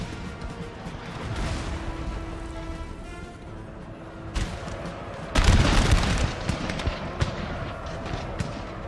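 Musket volleys in Napoleon: Total War, a loud crackling burst of massed fire around the middle over a continuous din of battle, with a few scattered shots afterward.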